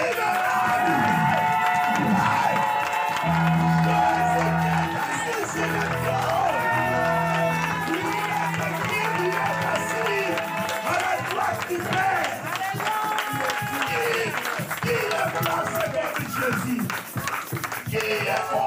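A church congregation cheers and applauds for Jesus in a sustained, loud crowd roar of shouts and clapping, with sung and shouted voices carrying above the din.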